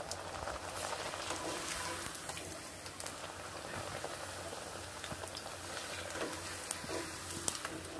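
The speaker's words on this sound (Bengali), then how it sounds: "কত সুন্দর হয়ে ভাজা হয়ে যাচ্ছে" Rice flour pitha fry in hot oil, giving a continuous soft bubbling hiss with faint crackles and occasional small pops, steady and moderately close.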